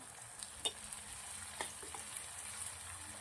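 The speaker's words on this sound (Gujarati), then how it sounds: "ટામેટું સરસ શેકાઈ છે એના માટે બે મિનિટ સુધી શેકી લઈશું આપણે" Tomato and onion sautéing in a pan with a pinch of salt, a quiet continuous sizzle broken by a few light spoon taps and scrapes, close and without talk.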